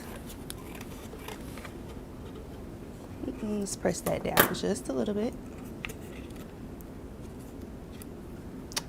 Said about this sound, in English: We're gonna grab our scissors and we're gonna go across right here